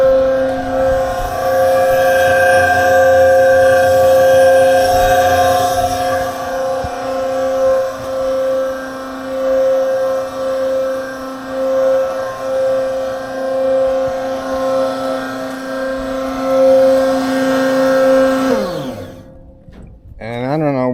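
A Ryobi 5 cu. ft. portable concrete mixer runs with a loud steady motor whine and droning hum, then spins down with falling pitch near the end, close by.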